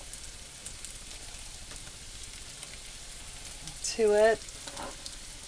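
Onion sizzling and frying in a pan for a sweet potato scramble, a soft steady hiss with a brief louder burst of crackle as the onion goes in, while a person speaks briefly.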